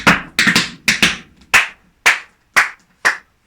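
Tap dance steps in an intermediate tap class, a toe, huffle, lap and ball change: crisp metallic taps in a quick syncopated run of about a dozen strikes, close and dry with no talking.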